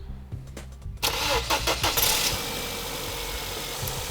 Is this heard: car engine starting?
yes